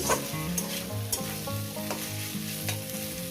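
Pieces of rui fish belly sizzle steadily as they fry on medium gas in a pan, with repeated stirring scrapes over soft background music and no talking.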